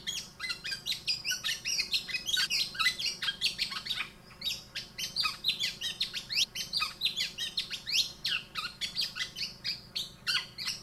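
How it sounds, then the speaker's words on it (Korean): Male black-naped oriole singing a string of bright, fluting whistles and chirps, phrases repeating steadily over about ten seconds, clear and fairly close against a quiet background, with no voices. "꾀꼬리 수컷은 암컷을 불러 사랑의 세레나데를 들려준다."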